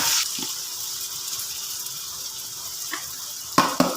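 Chopped garlic frying in hot cooking oil in a pan for Filipino dinuguan with pork liempo, a steady soft sizzle throughout with a couple of sharper clatters near the end.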